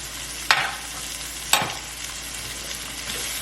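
Butter and flour roux sizzles steadily in a hot pan, stirred with two sharp scraping clacks early on, with no talking over it.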